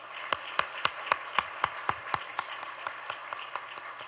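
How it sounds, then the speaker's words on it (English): Sparse, evenly spaced single claps ring out at a Birmingham Business Hall of Fame ceremony, a lone clapper keeping a slow steady beat in a quiet room. "Join me again, everyone, in giving our newest members of the Birmingham Business Hall of Fame another round of applause."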